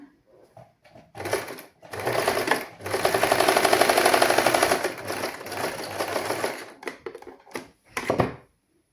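A sewing machine stitches darts on a frock in long continuous runs, loud and close, with brief pauses between bursts and a few short final stitches.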